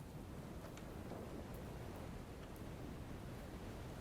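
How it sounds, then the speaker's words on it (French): A thunderstorm in the video game Minecraft fills the scene with steady, dense hiss of heavy rain and a low rumbling wash, continuous and even, with no voices. "La tempête est toujours pas passée hein."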